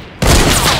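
A heavy sniper rifle fires in a shooting video game, one loud, sharp blast hitting abruptly after a brief quiet lead-in and then rolling into a dense, sustained crack of gunfire noise.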